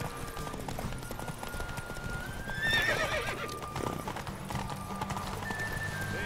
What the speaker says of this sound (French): Au galop, Ablette.